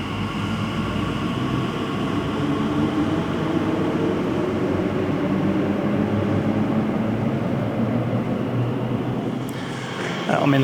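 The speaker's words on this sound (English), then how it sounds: "The train approaching platform A is the service to Abbey Wood." An Elizabeth Line train arrives at a deep level underground station, a steady loud rumbling roar filling the platform throughout, with a brief clatter near the end.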